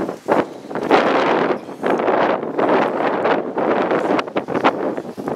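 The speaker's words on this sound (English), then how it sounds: "the wind is so strong today. It's like 30 miles per hour" Strong wind of around 30 miles per hour blows around a 2021 Toyota Camry XSE, battering the microphone in loud, uneven gusts with short lulls and no talk.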